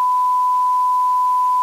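A single steady electronic beep tone holds unbroken for nearly two seconds, clean and fairly loud, with no other sound around it.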